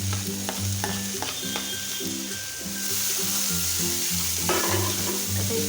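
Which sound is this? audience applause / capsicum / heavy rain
capsicum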